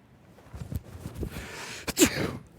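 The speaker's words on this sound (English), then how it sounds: "Are you normally a triple sneezer?" A person sneezes three times in quick succession, the sounds fairly faint and close, with the third sneeze the strongest.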